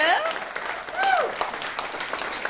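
Comedy club audience applauding a stand-up comic, a dense wash of clapping with a cheer rising over it, while a voice talks over the crowd.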